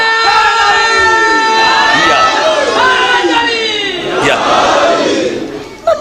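Large crowd at a Muharram majlis in Jhamra chanting slogans in unison, loud and sustained, with raised voices overlapping throughout.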